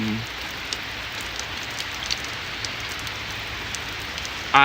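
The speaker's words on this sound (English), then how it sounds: "So right now here in Oswego, we're getting a heavy downpour." Heavy rain pours down during a September rainstorm in Oswego, a loud, steady hiss of drops striking surfaces with faint scattered ticks, continuous and even throughout without any talk.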